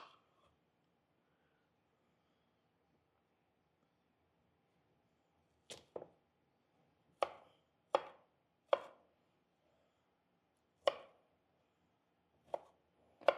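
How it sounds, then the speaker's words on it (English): Jalapeños being chopped with a knife on a cutting board, a series of sharp, isolated knocks, about eight of them at uneven intervals after a quiet start, close and clear with no talking. "We can always chop more if we need to because I have plenty here"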